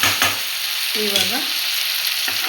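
Ladies finger (okra) frying in a pan for bendekai gojju, with a steady sizzle throughout, brief stirring scrapes, and a few short tonal squeaks near the middle; close and fairly loud, no talking.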